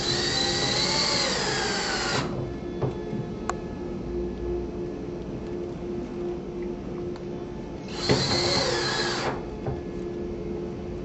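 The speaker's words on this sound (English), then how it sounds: "we'll install the smaller screw into the header" A power drill driving a screw into a shutter bypass track header, a whining motor burst at the start, a long stretch of quieter hum, then a second short high burst near the end.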